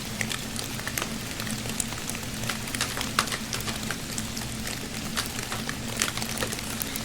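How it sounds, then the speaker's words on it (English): Rain falling outside, a steady patter of scattered drops hitting a surface over a constant low hiss, with no talk. "Yeah, so it's quite rainy here."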